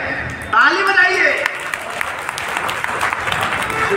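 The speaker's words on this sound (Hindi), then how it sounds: "ताली बजाइए" Audience applause at a one-day seminar hall, a sustained loud wash of clapping that swells quickly and holds steady throughout.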